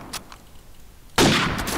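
A sudden loud gunshot burst, close and harsh, sustained after a brief quieter lead-in, from shooting through a wall in Call of Duty 4 Promod.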